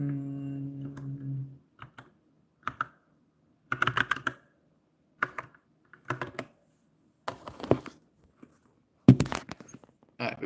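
Password being typed on a computer keyboard: close, crisp key clicks arriving in short irregular bursts separated by pauses, with a low hum fading out at the start.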